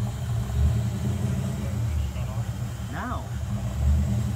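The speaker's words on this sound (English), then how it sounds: "It's idling, but it's idling weird" A 1982 Pontiac Trans Am with a carburetor idles unevenly, a low throbbing rumble that swells and dips close by while people talk over it and a voice speaks briefly.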